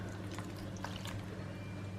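Water poured from a measuring cup into a mixing bowl while kids make sweet lunchbox snacks, a steady soft stream over a constant low kitchen hum, no talking.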